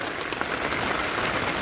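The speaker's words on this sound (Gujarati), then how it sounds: "બહાર વરસાદ બહુ બહાર આવે છે" Heavy rain pours outside at a campsite, a dense, steady patter of drops on surfaces with brief louder splashes, heard close and continuous.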